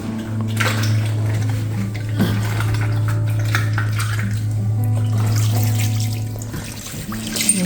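Liquid pours and trickles over salmon pieces for smoked salmon, a close steady flow over a loud constant hum.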